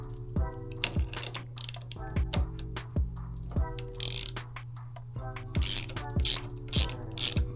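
A ratchet works loose the 10mm nut on the brake lever of a 2022+ Suzuki GSX-S1000 during a lever install, giving repeated bursts of quick close clicking with brief pauses between strokes.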